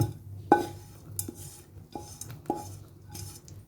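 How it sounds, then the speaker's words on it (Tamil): Paniyaram batter being stirred together with sautéed masala in a bowl, giving soft wet scraping under several sharper clinks of a spoon against the vessel, no talking. "இப்போ இது எல்லாம் சேர்த்து நல்லா மிக்ஸ் பண்ணிக்கலாம்."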